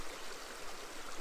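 A cold creek at Bell Smith Springs rushing past a log crossing point, a dense, steady broadband wash of flowing water that fills the short clip without pause or voices.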